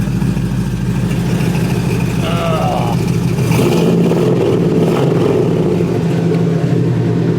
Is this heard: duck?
no